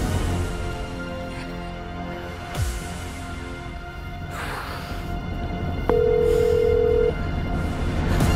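A telephone call rings out as a single steady electronic tone lasting about a second, over a constant background bed in a TV drama scene.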